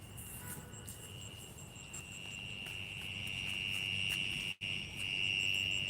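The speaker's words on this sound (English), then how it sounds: "Can you hear the cricket noise?" Crickets chirp in a steady, shrill, continuous trill on a dark night outdoors, moderately near and without talking.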